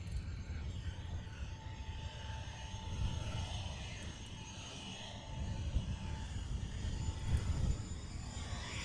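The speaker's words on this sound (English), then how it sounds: "This United here is heading off to LAX" A United airliner taking off for LAX at a Hawaii airport produces a distant, rumbling engine roar with a faint tonal whine, swelling gently in places.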